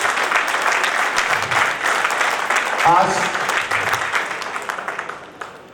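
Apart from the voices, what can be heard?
audience applause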